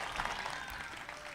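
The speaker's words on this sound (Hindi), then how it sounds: "आपकी तालियों ने बताया कि अंजुम जी" An audience at a live stage event claps in a short, faint burst of applause, a soft continuous patter heard from a distance.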